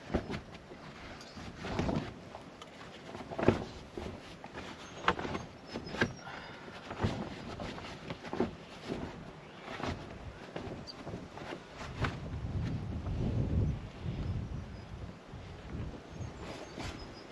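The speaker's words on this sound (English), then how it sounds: "the wind has really picked up" Strong wind gusting at a riverside campsite, buffeting the microphone in irregular rumbling thumps and rushes, swelling into a longer low roar near the end, with no talking.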